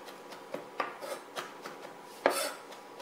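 Fresh rosemary chopped quickly with a knife on a board: a series of light, irregular taps and scrapes, close and fairly quiet, with one sharper knock near the end and no talking.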